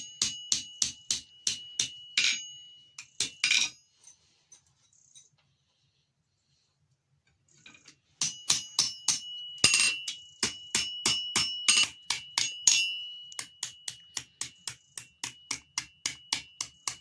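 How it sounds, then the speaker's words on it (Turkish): Metal hammer strikes setting rivets into the handle of a traditional Evrenye knife, loud sharp taps in quick regular bursts with a pause midway, then resuming in steady rhythmic volleys, no talking. "Dört tanesini de çiviliyoruz."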